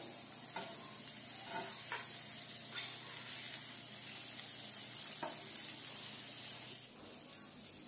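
Amul butter sizzles in a pan while masala pav is being made, a soft, steady frying hiss with a few light scrapes of stirring throughout.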